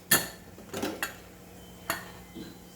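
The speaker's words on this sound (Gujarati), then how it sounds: "આપણે કુકરને ખોલીને જોઈ લઈશું." Pressure cooker lid being opened after cooking dal, a few faint metallic clanks and scrapes of the lid and pot over low background hum, with no voices.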